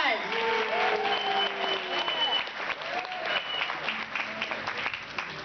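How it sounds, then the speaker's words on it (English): An audience applauds at an outdoor veterans Memorial Day barbecue with steady, moderately loud clapping, while voices and cheers rise over it throughout. "Let's give them a round of applause."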